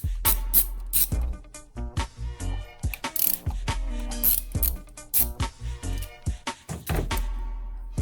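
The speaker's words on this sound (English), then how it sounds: "And just turn your socket." A hand ratchet clicks in quick, uneven bursts as a socket is turned to tighten a part on a Buick Encore or Chevy Trax, close and crisp with short pauses between strokes.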